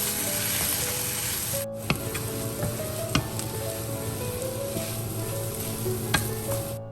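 Sliced onion sizzles and stir-fries in a hot pan, a steady close hiss with a few sharp clicks of a utensil against the metal, no talking.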